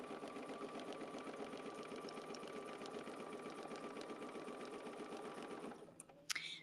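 A sewing machine stitches a quilt with a steady, fast, even mechanical whir that runs continuously, then stops, leaving a couple of sharp clicks at the end.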